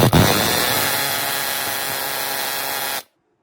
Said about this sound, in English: now that I'm not using a hammer, and I'm using an air hammer